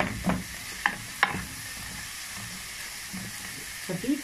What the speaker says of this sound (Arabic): اديله بقى تشويحه كده، وانزل بقيه الخضار